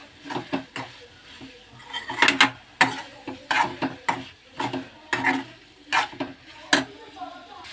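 Cauliflower curry with chili powder stirred in a pan on the stove, a spoon clinking and scraping against the metal in uneven bursts, close and moderately loud with short pauses.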